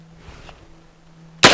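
A Genesis Arms Gen 12 shotgun fires a Federal Top Gun low-brass shell, 1-1/8 oz of number 8 shot at 1145 fps, at a shooting range. One sharp, loud blast bursts out near the end after a stretch of near silence.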